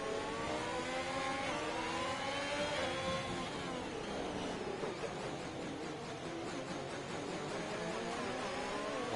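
A Ferrari race car engine in a racing video game at the Interlagos circuit drones loudly and steadily for several seconds, its pitch rising and falling with gear changes and rough, tractor-like harmonics.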